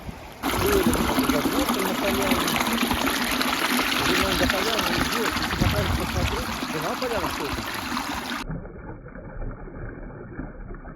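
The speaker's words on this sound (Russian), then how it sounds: "Такое мощное течение, да?" Strong river current rushing and churning, a dense, continuous roar of flowing water near the listener that stays steady for several seconds before dulling, with a voice speaking faintly underneath.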